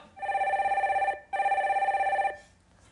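A telephone rings in two long, steady electronic trills as a call is connected during a Korean stock-market call-in broadcast, loud and clear with no talking over it.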